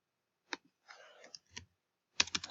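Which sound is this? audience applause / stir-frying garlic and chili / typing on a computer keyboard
typing on a computer keyboard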